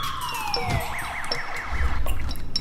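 An ambulance siren in the video game SimCity: Cities of Tomorrow wails in repeated rising and falling sweeps. It sounds clear and fairly close over a low rumbling city ambience, with no talking.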